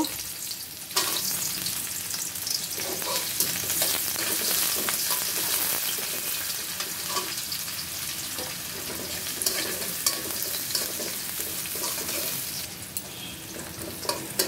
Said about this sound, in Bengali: দিয়ে দিলাম সয়াবিন তেল, পেঁয়াজগুলো দিয়ে দিব।